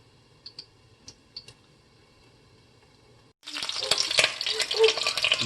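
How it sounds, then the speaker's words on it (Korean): Hot oil spatters and crackles loudly in a frying pan cooking hamburg steak, starting abruptly after a few quiet ticks and continuing as dense, close sizzling pops. "물이 떨어져서 기름이 튀고 있어요."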